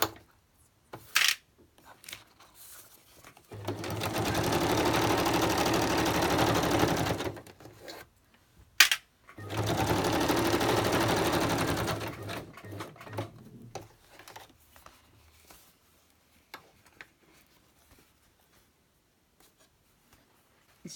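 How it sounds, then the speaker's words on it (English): A sewing machine stitches back and forth through a decorated paper folder in two steady, whirring runs of a few seconds each, separated by a short pause and scattered handling clicks. "I'm going to stitch back and forth like I did with the pouches"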